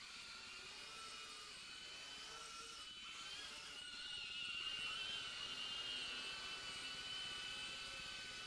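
Helicopter passing overhead in the video game Arma Reforger, an enemy transport whose faint, steady rotor and turbine drone swells slightly midway while the battlefield ambience continues.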